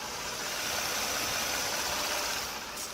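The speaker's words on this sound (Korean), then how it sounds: "역시 V6 GDI 엔진답게 정말 정숙하고 깔끔한 엔진 사운드까지 잘 들려주고 있는 모습이고요" A Hyundai Genesis DH V6 GDI engine idles with the hood open, a smooth, steady hum and faint high whine, heard up close with no changes in pitch.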